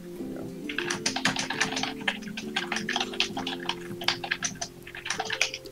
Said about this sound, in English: Typing intensifies it.